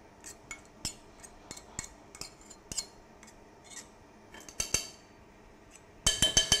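A spoon stirs chopped tarragon into a warm strawberry mixture in a pan for a granita, giving scattered light metallic clinks and scrapes, with a quick burst of sharper clinks at the end.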